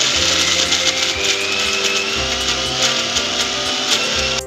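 Mixer grinder whirring loudly as it blends chopped tomato and turmeric into a fine masala, a steady motor drone with shifting pitch as the load changes, close and continuous.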